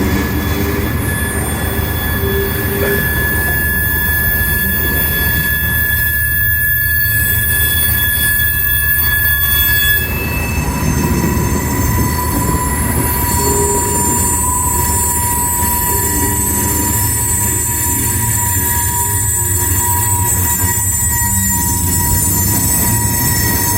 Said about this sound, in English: Got to wait for this train to clear so I can get across the crossing.